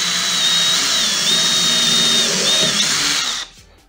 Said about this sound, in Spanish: tomamos nuestra broca, más o menos como unos 5 centímetros hacia adentro